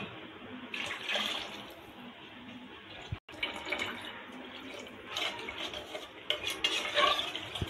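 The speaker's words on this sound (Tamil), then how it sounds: "நல்லா கலந்து விட்டாச்சு" Soaked basmati rice and water being stirred in a pot for keema biryani, with steady wet scraping and sloshing and a few clinks against the metal. Close and continuous with a brief pause partway, and no talk.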